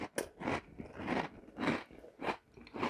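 Monster Mash cereal crunches loudly up close, with a series of rhythmic chewing bursts separated by short pauses and no speech.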